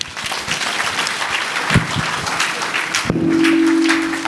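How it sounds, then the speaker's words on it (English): Crowd applause at a lecture series event with the Governor of Imo State present: dense, steady clapping from a large audience fills the room throughout, swelling slightly louder toward the end, with a brief tonal hum and a voice faintly under it. "Can we make the clapping a little louder?"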